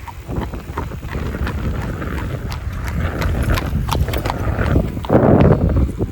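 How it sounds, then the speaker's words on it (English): Hooves clip-clop in a steady rhythm as a horse and buggy passes close by going uphill on a rural backroad, with wind buffeting the microphone. "that was called a horse and buggy, going up the hill"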